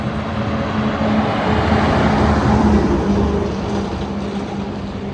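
Steady roar of heavy traffic on a busy army road, a dense continuous wash of passing vehicles with engine rumble, loud and close, with no voices.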